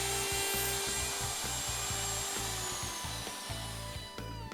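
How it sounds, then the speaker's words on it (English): A router fitted with a Leigh jig cuts grooves straight through a wood board, giving a steady high motor whine with a rhythmic lower chatter from the cuts, fairly close and with no talk. "Routing is then done straight in and out of each template opening"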